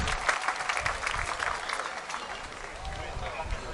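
An audience at the Maui Festival claps in a dense, lively burst of applause, moderately loud and close, with a voice speaking over it.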